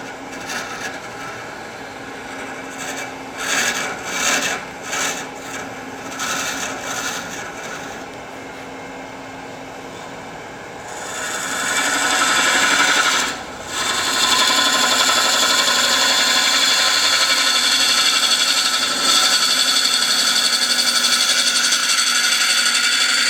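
Ring and hook tools cut end grain on a wood lathe: choppy, scraping bursts for the first ten seconds, then a louder, steady hissing cut that runs on with one brief dip.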